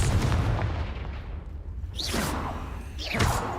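Two whooshing blasts from the Confringo fire curse in Hogwarts Legacy, each a rushing swoosh ending in a booming burst, heard over a steady rumbling game background.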